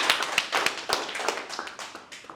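Clapping from a small group at a solar sales training session, a quick burst of sharp, uneven hand claps close by with no talking.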